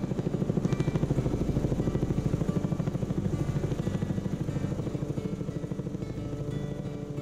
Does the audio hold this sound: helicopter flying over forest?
yes